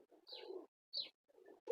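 Soft, low cooing from a rooftop fancy pigeon, delivered in two or three murmured bursts with brief pauses between them, near and quiet.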